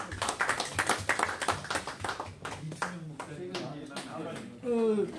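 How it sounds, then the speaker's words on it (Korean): People at a meeting give a round of applause, scattered close claps for a few seconds mixed with voices, fading as talk resumes. "우리 총무님들 박수 한번 드리겠습니다."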